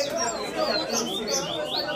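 A caged papa-capim competes in a singing contest among dozens of cages, delivering a steady run of high, looping chirps and trills close by, with faint background voices underneath.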